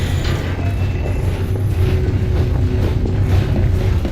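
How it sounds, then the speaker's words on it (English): A train rolls along in Half-Life 2 Episode 1, a loud continuous rumble with metallic creaks and rattling mechanisms throughout, steady and close with no talk. "Let's see where this train is headed."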